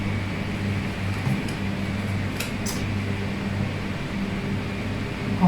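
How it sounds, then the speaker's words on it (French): Electric fan running in a room, a steady close whooshing drone with a low hum, constant throughout with no speech. "Alors j'ai mis un ventilo"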